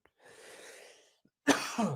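A single harsh cough from a person who is getting over an illness, near and fairly loud, preceded by a soft breathy exhale in an otherwise quiet room.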